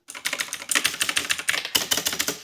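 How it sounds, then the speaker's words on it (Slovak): Fast typing on an old computer keyboard produces a close, loud run of clattering key presses in quick bursts, with no talk. "tu je moja stará klávesnica, počúvajte ten zvuk."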